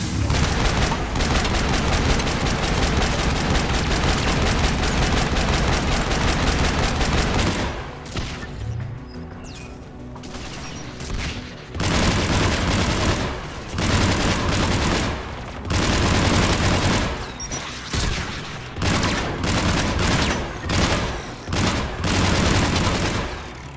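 Anti-aircraft guns in Mass Effect 3 pound out dense, continuous bursts of heavy automatic fire, loud and close, with a brief lull partway through before the barrage resumes in rapid volleys.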